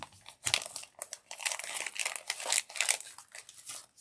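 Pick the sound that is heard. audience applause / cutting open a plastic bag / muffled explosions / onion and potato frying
cutting open a plastic bag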